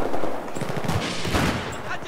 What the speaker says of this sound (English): I'm just gonna shoot from the roof of the point